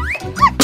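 A cartoon dog in a children's play video gives a short yip and bark, close and loud, with high squeaky toy-like tones around it, all in under a second.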